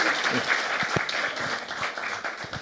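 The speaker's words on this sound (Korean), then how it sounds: "박수하겠습니다." Audience applause at a teachers' seminar: a dense burst of clapping from a roomful of people, steady and moderately loud for a few seconds without a clear break.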